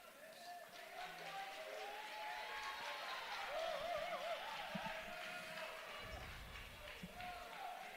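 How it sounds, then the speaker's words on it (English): Faint arena crowd noise rising at a college wrestling dual between Wyoming and Utah Valley, a broad murmur with scattered cheers beneath a commentator's talk. "Crowd getting excited about that"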